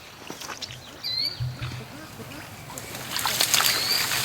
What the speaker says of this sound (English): I just can't believe how gentle he was taking it out of the water